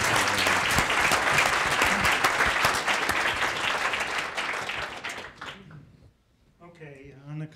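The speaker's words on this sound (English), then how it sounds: "why don't we give a round of applause to both our speakers" Sustained round of audience applause at a strategy panel event, dense and steady for about five seconds before thinning out and fading, followed by a brief murmur of talk at the end.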